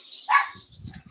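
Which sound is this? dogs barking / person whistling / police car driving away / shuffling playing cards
dogs barking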